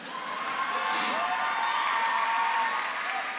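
Graduation audience cheering and applauding in a hall, a steady, continuous crowd roar with scattered whoops and shouts, sustained throughout without a break.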